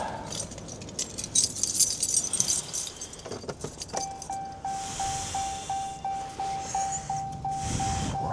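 Keys jingle and clink repeatedly, close by, while a vehicle door chime dings in a steady rhythm in the background of a 2022 Dodge Ram during door panel removal and window repair.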